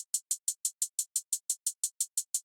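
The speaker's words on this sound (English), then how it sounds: "Next, I got this 2-step hi-hat pattern." A steady two-step hi-hat pattern of crisp, ticking hits, about fourteen in quick even succession, bright and thin with no other sounds.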